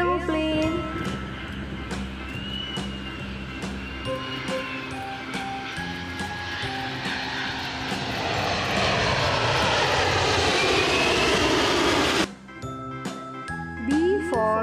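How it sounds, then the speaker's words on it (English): An airplane sound effect within a nursery phonics song, a steady droning aircraft engine that swells over about twelve seconds before cutting off abruptly, with bright chiming tones layered on top and musical notes resuming after. "for airplane."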